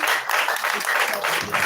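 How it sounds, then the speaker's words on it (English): Applause at a political gathering in Karamoja for the NUP party, a crowd clapping steadily and fairly loud for under two seconds, dense and continuous without pauses. "Please give this brother of mine another big hand clap."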